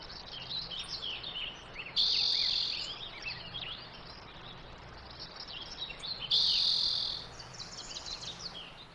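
Steady chirping of insects fills the background while bursts of bright birdsong rise over it twice, outdoors with no voices.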